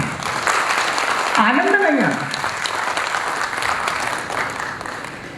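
Ongoing clapping from an audience at a cooperative ceremony, a moderate, even patter of many hands while someone speaks over it.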